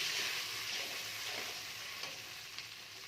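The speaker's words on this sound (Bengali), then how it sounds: "ঝোলটা ফুটে গেছে" A thick katla fish curry gravy bubbles and simmers steadily in a pot, a constant close hiss with soft pops rising through it.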